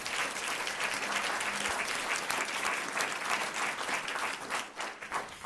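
A room of audience members at a school board meeting applauds a record-breaking academic team, steady dense clapping throughout, tapering slightly near the end.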